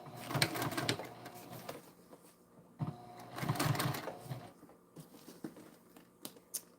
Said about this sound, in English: Double row of stitches right next to our first one.